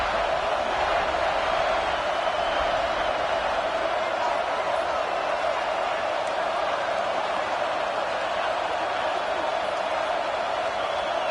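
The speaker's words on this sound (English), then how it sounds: "listen to this crowd noise. This stadium is vibrating." Loud, dense crowd roar fills a college football stadium during an Oklahoma game, a steady wall of noise lasting throughout with no letup, no talk over it.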